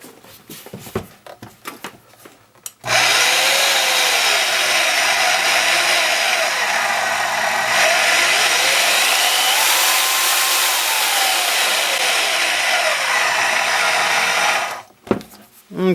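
A Bauer deep-cut band saw from Harbor Freight runs for about twelve seconds with a loud, steady whir, its motor pitch sweeping up and down as the variable speed changes, with clicks and handling noise before and after.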